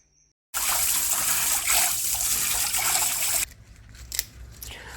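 Freshly picked Adhatoda medicinal leaves are washed under running water, a loud steady splashing stream lasting about three seconds before it stops, followed by quieter wet rustling and dripping.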